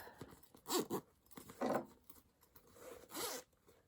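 Zipper on a handmade sewn fabric bag being worked in three quick close rasping pulls, separated by brief handling noises, with no talking.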